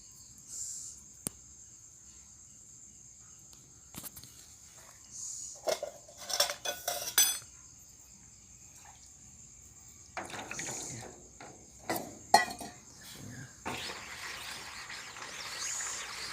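A screen printing frame is washed with a little soap, giving intermittent water splashes, rubbing and clinks of handling, with quiet stretches between bursts and a steady high insect-like whine throughout.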